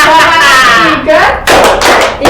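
A class does a rhythmic spirit clap in a classroom, the hands sounding in quick bursts of claps separated by short gaps, with voices chanting over and between them.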